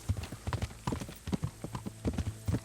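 Horse hooves clip-clop at a slow, uneven walk while a rider travels in the video game Kingdom Come: Deliverance, close and crisp, with a low steady hum underneath.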